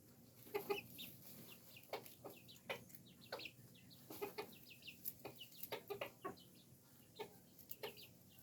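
A year-old backyard chicken flock clucks softly outdoors, with short, scattered clucks and chirpy calls repeating irregularly against a quiet background, fairly faint and without talk.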